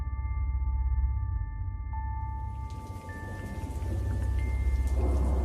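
A heavy, deadly hailstorm pounds down in a dense, steady roar while deep thunder rumbles low underneath throughout.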